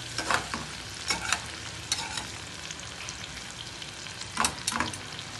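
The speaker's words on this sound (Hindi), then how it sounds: "गाजर और बीन्स भी फ्राई हो चुका है," Carrots and beans fry in a small amount of oil for a Jain-style mixed vegetable dish, a continuous close sizzle punctuated by a few louder scrapes and knocks of a stirring utensil.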